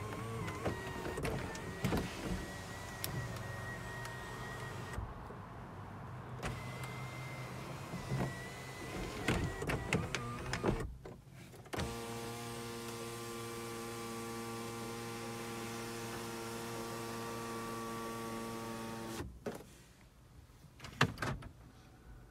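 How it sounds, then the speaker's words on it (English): A 2020 Lexus RX450h F Sport's motorized panoramic-roof sunshade opens with a steady electric motor whine and hum lasting several seconds inside the cabin, with soft clicks and faint mechanical shifts as it starts and stops. "This is to open the sunshade of the vehicle."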